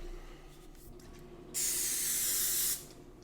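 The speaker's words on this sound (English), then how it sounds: "Once you've got your steak all sprayed up with the olive oil" Olive oil spray coats a steak in one sustained hissing burst lasting just over a second, close and clear against a quiet room background.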